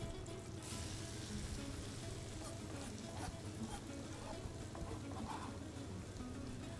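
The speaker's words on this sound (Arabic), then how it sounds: "نضيف البصل." Onions frying in a pan, a soft continuous sizzle like light rain on a surface, steady and fairly faint, with low background rumble and no clear talk.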